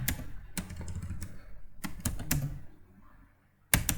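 Someone types on a computer keyboard nearby, with quick clusters of sharp clicking keystrokes separated by brief pauses.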